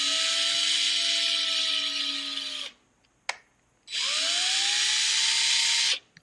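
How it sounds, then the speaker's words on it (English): A power drill drilling into a plastic mouse scroll wheel whines loudly at a steady pitch, stops briefly with a short knock, then spins up again and runs before cutting off. "at some point we're just going to have to drill and see what happens"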